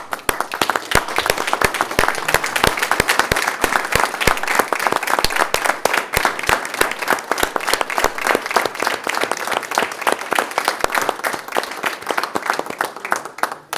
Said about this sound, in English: give these boys a round of applause